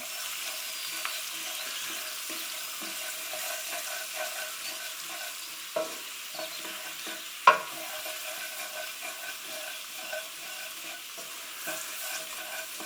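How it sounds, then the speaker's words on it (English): Gram flour being stirred into a vegetable and meat-free chick'n pie filling in a pan over low heat, with a continuous soft sizzle, scraping and a couple of sharper spoon knocks against the pan. "we're going to start off with a heaped tablespoon of gram flour and just sprinkle it all over. Give it a good stir in."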